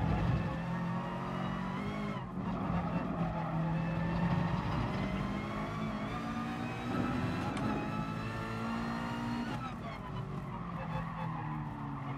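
Race car engine in GT Sport, a 2008 GR.2 car, roaring steadily with layered rising and falling gear tones, loud and continuous throughout, with a brief dip around two seconds and again near ten.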